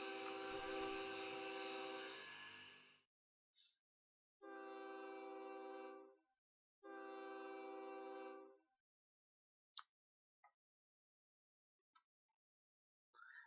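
Trains running in the railway simulation game OpenTTD: loud mechanical chugging and horn-like tones, followed by two separate passes of steady harmonic engine drone of about two seconds each, then a few sharp, brief clicks and blips.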